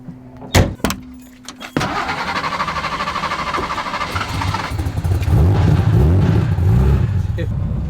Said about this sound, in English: I'll get a fun car that has a lift kit on it